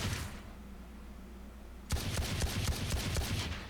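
Sheriff sidearm fired from a crouch in a video game: after a quiet lull, a rapid run of loud, punchy shots rings out close up in quick succession.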